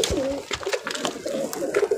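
Pigeons coo softly in low, throaty murmurs on a rooftop loft of about 150 birds, with a busy mix of other noise and faint voices around them throughout.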